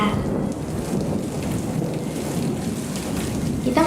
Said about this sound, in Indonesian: Pantas saja tadi ada ilustrasi tentang hujan.